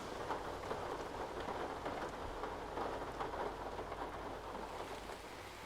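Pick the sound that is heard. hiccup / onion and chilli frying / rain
rain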